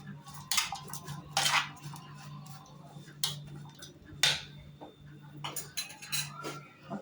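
Spiced onions get stirred in a pot, a spoon scraping and clinking against the metal in irregular bursts over a low steady hum, close and moderately quiet.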